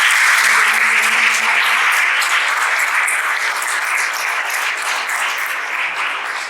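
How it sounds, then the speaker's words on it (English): Sustained audience applause honoring a doctor who summited Mount Everest, a dense wash of clapping at a steady loud level that slowly eases toward the end, with no talk over it. "let us give him a big round of applause."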